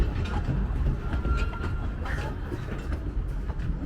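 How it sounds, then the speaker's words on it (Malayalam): A miniature railway train at Veli tourist village rolls past with a loud, steady rumble and faint rhythmic clatter of wheels, close by and continuous. "ഇവിടെ മിനിയേച്ചർ റെയിൽവേ ഉണ്ട്."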